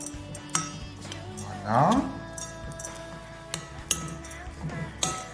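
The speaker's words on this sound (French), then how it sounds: "Vous mettez le tout. On mélange bien." Cookie dough ingredients with chocolate chips are stirred in a bowl, giving soft clinks and scrapes of utensil against dish, with a brief sweeping tone in the middle, while someone talks throughout.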